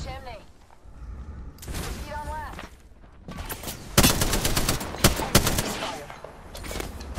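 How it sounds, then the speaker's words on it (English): Bursts of automatic gunfire in the battle royale game Apex Legends, with rapid crackling volleys from about four seconds on, mixed with footsteps and game effects while players talk throughout. "I'm getting shot at."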